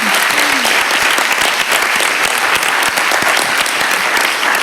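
Loud, dense audience applause fills an auditorium after a panel discussion at a round table, with sustained rapid clapping from start to finish and no voices over it.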